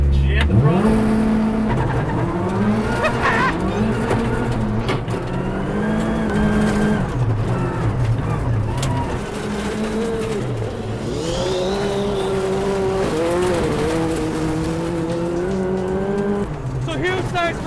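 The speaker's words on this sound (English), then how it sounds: "We're gonna hit launch control button. I'm gonna jam the throttle." A rally car launches under launch control at full throttle, its engine rising through the gears in loud, continuous acceleration with shifts, heard close from inside the car with steady wind and road noise and no talking.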